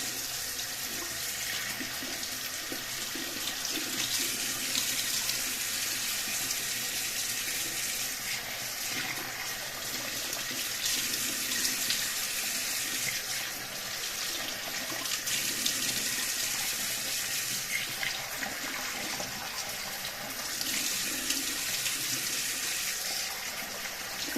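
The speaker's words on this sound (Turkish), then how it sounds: "bol su ile yıkayacağım" Plenty of tap water runs steadily into a bathroom sink during a morning washing routine, with a continuous, close, hissing splash whose strength varies slightly as hands move under the stream. Nobody speaks.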